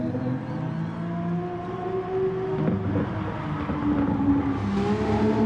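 Race car engine in a sim racing league race at Barcelona, dropping from third to second gear and shifting back through the gearbox, a droning engine whine that rises and falls in pitch with each shift, heard alone.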